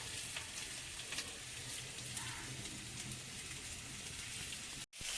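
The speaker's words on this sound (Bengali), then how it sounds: "মাছের আলুগুলো ভাজা হয়ে গেছে, এবার নামিয়ে নেব" Potato pieces for a fish curry frying in hot oil, a steady crackling sizzle with soft stirring, continuous at close range and briefly cut off near the end.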